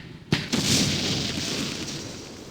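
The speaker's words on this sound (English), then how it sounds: "This is going to be our artillery outgoing." Outgoing artillery fire in the Arab-Israeli war game Campaign Series Middle East: a sharp loud report followed by a second blast and a long rolling roar that slowly fades.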